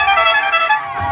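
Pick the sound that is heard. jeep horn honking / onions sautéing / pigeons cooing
jeep horn honking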